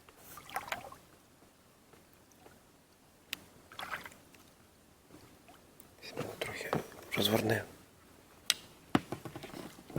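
A boat being paddled on quiet water in a natural spot near Zhytomyr, with soft, scattered splashes and dripping that grow louder toward the end, under low, hushed voices.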